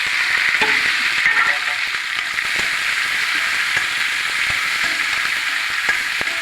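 Garlic, green chilies, curry leaves and onion sautéing in hot oil, a loud, dense, steady sizzle heard up close, with a few faint stirring knocks and no speech.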